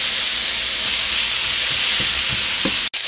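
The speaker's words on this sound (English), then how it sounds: "You wanna wait that this saute a little bit" Broccoli trim, carrots, roasted garlic and onion sautéing in a pan, a steady loud sizzle with a few soft stirring knocks and a sharp clatter near the end.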